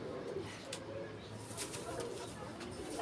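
Low, muffled pigeon cooing rolls on continuously at a quiet level, with faint rustling in the background.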